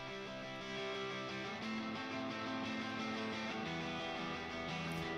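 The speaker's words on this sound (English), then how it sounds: "And these were played on a Telecaster" Clean, sustained electric guitar chords on a standard-tuned Fender Telecaster ring out in a quiet, layered studio mix, with no talk over them.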